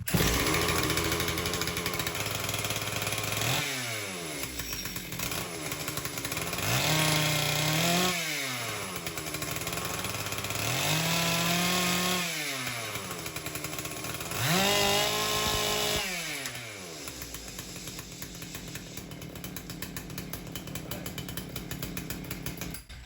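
A Husqvarna 262XP chainsaw, rebuilt with a swapped case, runs steadily at high idle, its loud buzzing engine rising and falling in several surges and dips with no talk.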